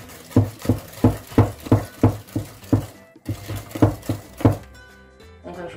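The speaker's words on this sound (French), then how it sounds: "dans un grand saladier, je mets le yaourt, je rajoute le sucre et je commence à mélanger un peu" Yogurt and sugar being stirred in a large salad bowl for Senegalese thiacry: a steady series of rhythmic thuds and scrapes of a utensil against the bowl, about two per second, pausing briefly midway before resuming.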